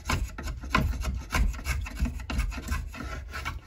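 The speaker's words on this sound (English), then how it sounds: "So using a draw knife." A draw knife scrapes and shaves wood in rough, rhythmic strokes while shaping a wooden axe handle, close and fairly loud with no talking.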